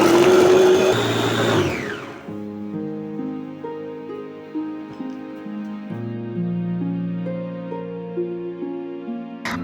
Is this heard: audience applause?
no